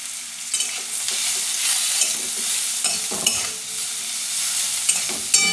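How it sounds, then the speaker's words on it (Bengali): Onions frying in oil with salt sizzle loudly in a pan while being stirred, with scraping and knocking of the utensil, close and continuous without talk. "নাড়তে হবে, না নাড়লে পুড়ে যাবে।"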